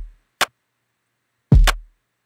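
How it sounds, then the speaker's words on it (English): A basic drum loop loaded into Factorsynth plays sparse hits: a low kick, a short crisp snap, then a heavier kick and snare together after a gap, dry and isolated against silence. "what I've loaded into Factorsynth is just the drum track, sounds like"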